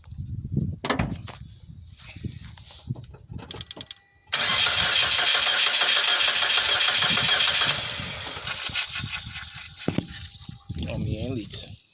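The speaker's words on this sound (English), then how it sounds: "Crank it so I can build compression a little bit." The engine of a 2015 Mitsubishi Lancer cranks with a rapid whirring starter, catches and runs, then settles to idle, with someone talking close by before and after.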